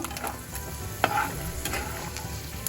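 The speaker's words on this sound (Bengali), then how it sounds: "চিনে বাদামটা ভাজা হয়ে গেছে" Peanuts fry in oil in a wok, giving a steady moderate sizzle with a sharp clink of a utensil against the pan partway through, close and without speech.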